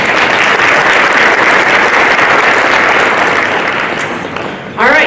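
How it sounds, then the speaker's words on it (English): Audience applause for the judges at an innovation awards event, loud and sustained dense clapping from a crowd, tapering briefly before a voice cuts in at the end. "So let's give one round of applause to our judges."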